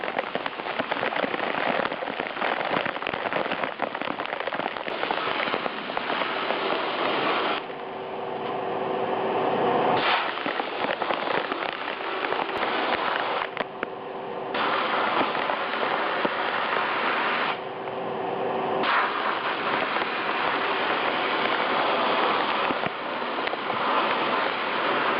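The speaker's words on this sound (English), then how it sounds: "Just watch the blasting." Media blasting strips the front end of a 1976 Mazda RX-5 Cosmo down to bare metal, producing a loud, harsh, continuous hiss close by that briefly drops in intensity several times as the nozzle pauses or shifts.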